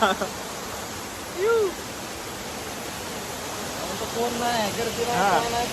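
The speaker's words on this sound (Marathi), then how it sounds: "बघा कसा आहे मागं धबधबा" A monsoon waterfall in the Konkan region roars as a steady, broad rush of falling water, with someone speaking briefly over it and faint chirps in the background.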